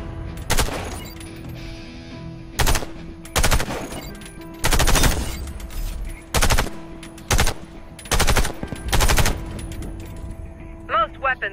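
Automatic gunfire at shooting-range targets in the video game Warface comes in about nine loud, short bursts separated by pauses of a second or two, with faint mechanical clicks in between.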